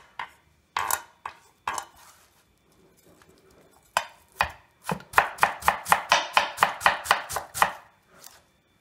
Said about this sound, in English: chop it in small pieces like this